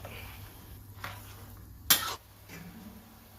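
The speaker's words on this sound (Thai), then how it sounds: "จากนี้ก็คนไปครับ" Shiitake mushrooms with dark soy sauce are stirred in a pot, giving a few soft scrapes and one sharper metallic clink against a quiet kitchen background.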